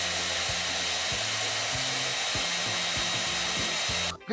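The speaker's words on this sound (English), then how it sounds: "When your hairdryer thinks it's an MMA fighter." A hair dryer runs loud and steady with a constant blowing whoosh for several seconds, its motor note shifting slightly as it moves, before cutting out abruptly at the end.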